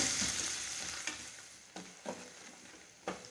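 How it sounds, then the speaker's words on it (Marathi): Onion sautéing in a pan for a Bhandari-style radish-greens curry, a soft steady sizzle broken by a few distinct scrapes and clicks of a spoon stirring, fairly quiet and close. "चांगलं परतून घेऊया कांदा थोडासा मऊ होऊन देऊया"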